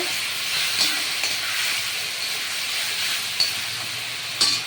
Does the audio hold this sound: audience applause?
no